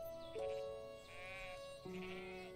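Two drawn-out bleats from sick sheep in the video game Everdream Valley, clear and tonal, one after the other against a quiet background.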